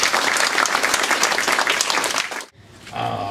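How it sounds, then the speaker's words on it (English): A dense crowd of audience members claps and cheers loudly for a stand-up comedian at a comedy show, then the applause cuts off abruptly and a quieter room tone follows. "Please give him a round of applause, all the way from the city"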